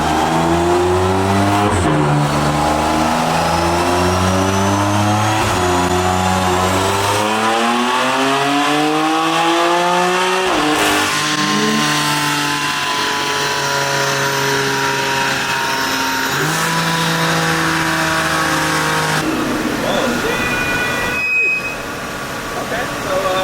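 A custom-tuned BMW F82 M4 with Vargas turbos revs hard on a dyno, its engine note climbing repeatedly through rising pitch sweeps, loud and close, with turbo whine, brief pauses between pulls and people talking over it.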